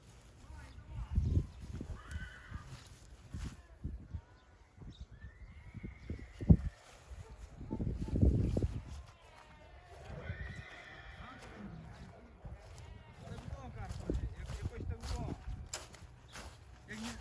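Horses at a Ukrainian farm, including a young stallion, give several neighs and whinnies over scattered hoof clip-clop and shuffling steps, fairly close, with people talking at times in the background.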